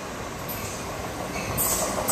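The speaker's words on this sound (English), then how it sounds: "All right, guys, the train's coming now." An Amtrak Surfliner passenger train rumbles past near a pier with a steady roar that builds toward the end, accompanied by a high metallic whine from the rails.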